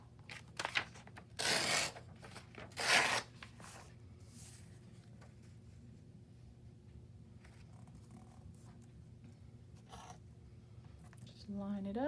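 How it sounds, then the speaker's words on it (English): Paper strips torn by hand for page edge borders: two loud, brief ripping bursts near the start, then quieter rustling and handling over a low steady hum. "And I just cut myself some strips. Or should I say tear some strips."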